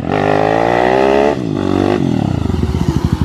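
A Honda XRE 340cc motorcycle engine revs hard and steady during a wheelie, dips briefly, then breaks into a rapid stuttering, pulsing rev as the throttle is cut, loud and close with no talk.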